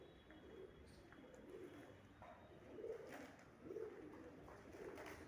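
Soft, low cooing of pigeons, a few rounded coos repeating at a relaxed pace over faint background hiss.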